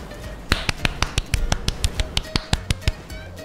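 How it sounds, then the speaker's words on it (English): About a dozen sharp claps from the game GTA V Online in a steady rhythm, close and crisp, with a faint murmur of background noise between them. "That was a good clap."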